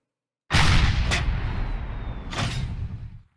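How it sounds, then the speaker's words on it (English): A cannon fires in Blockland with a sudden loud boom that rolls on into a long rumbling tail, a second punchy blast landing mid-way through before the sound fades out. "So if we use the cannon"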